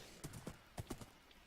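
A Minecraft horse's hooves clip-clop in a quick, light run of about six to seven hollow knocks, faint and close, with no talking over them.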